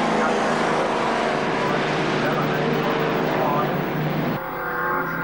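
Vintage racing cars roar past at a handicap race, engines loud and continuous with a droning, rising and falling pitch, one car passing close before the sound drops slightly.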